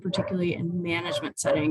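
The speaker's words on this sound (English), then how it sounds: "I have a puppy and he's sort of in his last hour where he likes to bark and play." A puppy yips and barks in short bursts close by, overlapping a person who keeps talking through it.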